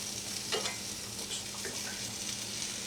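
Sliced potatoes sizzle in beef fat and a little oil in a pan, a steady soft frying hiss with occasional scraping stirs as they are spread out.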